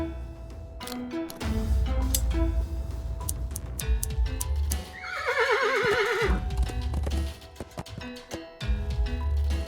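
A horse in the Willy Morgan video game lets out a loud, quavering neigh partway through, set among clip-clopping hooves, low thuds and small effects, with no speech.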